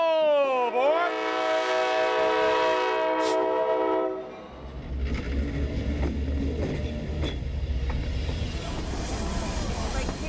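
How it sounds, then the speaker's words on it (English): A Lehigh Gorge railroad excursion train sounds a loud, sustained multi-tone horn, then the rumbling roll of the passenger cars and wheel clatter takes over, steady and close. "We came here for the train ride"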